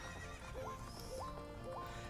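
A horse in the video game Majora's Mask whinnies in a few repeated rising calls over a steady, busy game background of music and hoofbeats.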